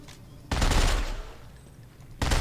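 A loud burst of rapid automatic machine gun fire in the video game Dead Space 3 erupts, sustains for over a second and fades, then another burst starts abruptly.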